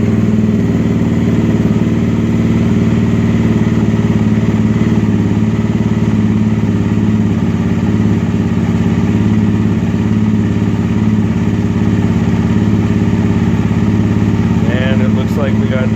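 An engine fires up and idles steadily after its fuel pump is activated, a loud, even mid-pitched drone that holds through the whole stretch with no break.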